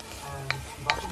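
Onions braising in a pan's browned meat drippings, a soft continuous sizzle with two quick spoon scrapes stirring them.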